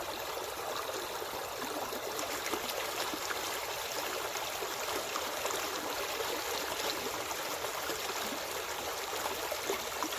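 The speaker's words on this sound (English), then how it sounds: "is another nice little water tumble" A small waterfall tumbles along a farm stream, a steady broadband rush of falling water that stays even and fairly close throughout, with no voices over it.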